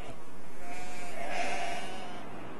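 A sheep bleats loudly and close, one drawn-out wavering call, on grassland in Hexigten in Inner Mongolia, with flock shearing about to happen in midsummer.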